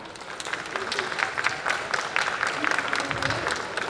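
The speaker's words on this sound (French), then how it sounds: "applaudissons sans plus attendre Pamela" A live audience applauds at a cosplay show during a Sunday game convention event, steady dense clapping throughout at moderate level with a few sharper claps standing out near the end.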